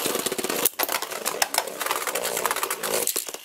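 Two Hasbro Beyblade Burst tops, Xcalius X2 and Spryzen S2, clash in a stadium, a rapid rattling run of sharp metallic-plastic hits and whirring, close and busy, with brief louder collisions.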